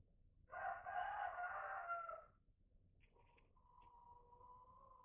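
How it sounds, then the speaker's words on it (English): A rooster crows loudly nearby outside a forge shop, a long raspy call, followed by softer clucking and murmuring from chickens in a quiet setting. "Hear them chickens trying to come in here?"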